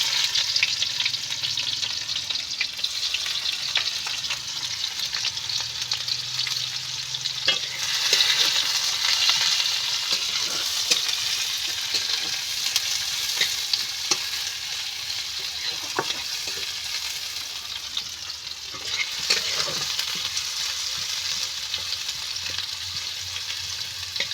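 Onions fry in oil with black cumin and whole garam masala, giving a steady loud sizzle and hiss. Occasional stirring scrapes sound close to the pan, and there is no talk.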